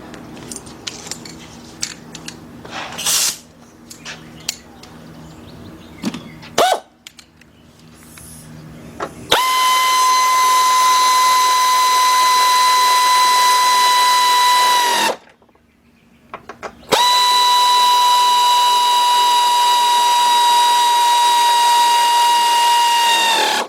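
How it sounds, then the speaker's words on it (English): An air ratchet bolts up a water pump on a Cadillac Northstar-type engine, with a few scattered tool clinks first, then two long, loud, steady whining runs separated by a brief pause. "Alright, let's bolt those up. Get my air ratchet, man."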